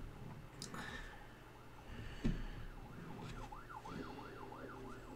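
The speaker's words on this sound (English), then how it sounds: "That's an ambulance on the side." An ambulance siren in a Harry Potter and the Goblet of Fire GameCube game wails in a steady rising-and-falling pattern, moderately loud, over game music and background effects.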